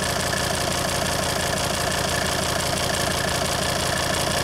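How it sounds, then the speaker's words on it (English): Common rail diesel engine running steadily on a test setup with fuel flowing through return-leakage tubes; a continuous, dense mechanical drone with a faint knocking texture, close and constant throughout, no talking. "Now, as the engine runs, it's going to take a little time."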